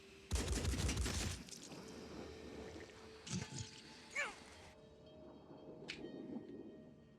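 Bursts of gunfire from the tactical combat game Phoenix Point: a loud, dense volley up front, then a few scattered later shots and impacts over a low ambient background.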